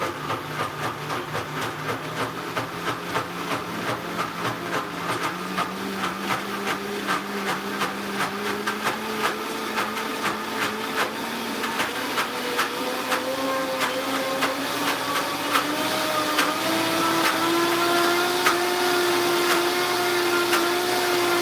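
A blender motor runs steadily and loudly while blending almond butter, its whirring pitch gradually climbing as the paste smooths out, with no talk over it.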